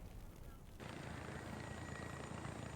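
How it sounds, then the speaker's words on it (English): Helicopter in the War Thunder combat game arrives as a sudden, loud, steady roar of rotor and engine noise, swelling in after a quieter stretch and holding constant to the end. "And there comes a helicopter."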